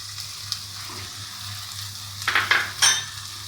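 Crushed chilies hit hot oil with browned onion and ginger in a pan, faint steady sizzling with a few brief stirring scrapes and louder hissing bursts near the end.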